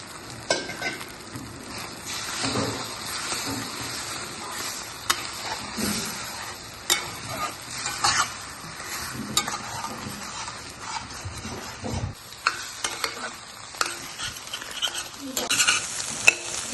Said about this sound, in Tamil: இப்போது அடித்து வச்சிருக்கிற முட்டையை அதில் அப்படியே ஊற்றிடுவோம் ஊற்றிட்டு நம்ம நல்லா மிக்ஸ் பண்ணிகிட்டே இருக்கணும்